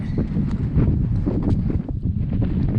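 Strong wind buffets a bare mountainside on the route up Mount Washington near Huntington Ravine, a loud, steady roar with gusty rumbling that fills the whole stretch, no voices.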